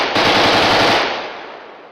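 Sustained automatic fire from a Kalashnikov rifle, a loud dense burst of rapid shots that rings on and fades over the last second, with no voices.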